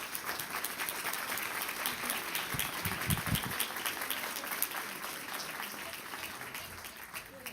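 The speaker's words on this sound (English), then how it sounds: "I would really appreciate it if you'd give them a round of applause for their work" Audience applause for school board members at a school district board meeting, steady dense clapping from a room of people lasting throughout at moderate distance, with a few louder nearby claps in the middle.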